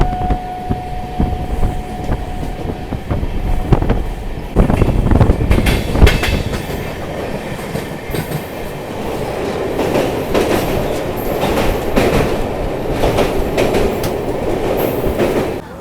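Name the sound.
Ganga Sagar Express LHB coach train running on rails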